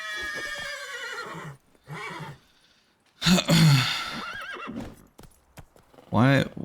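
Roach, a horse in a video game, whinnies loudly in several sharp bursts after being kicked, alongside hoof clops, while a person talks over the game sounds.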